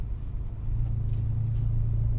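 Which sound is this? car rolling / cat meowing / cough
car rolling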